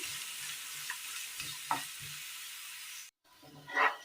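Onions sautéing for a Kerala curry, with a soft sizzle in a pan and a few stirring clacks before a brief cutoff, then a closer burst of frying.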